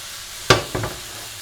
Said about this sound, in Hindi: बस ऐसे पैन को हिला हिला के सारी तरफ से पनीर को पकाई जाएंगे और वेजिस भी पकती जाएंगी ऐसे।